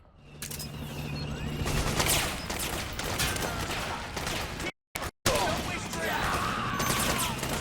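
Heavy gunfire in the video game Metal Gear Solid 4: Guns of the Patriots, dense overlapping bursts and crashes with a brief cut to silence midway before the firefight resumes.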